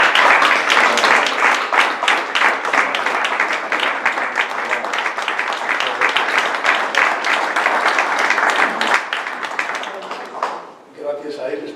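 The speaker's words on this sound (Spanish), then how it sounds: "pido para él un aplauso" Sustained applause from an audience at a poetry evening, many hands clapping steadily for around ten seconds before tapering off, with a few scattered sounds and voices at the end.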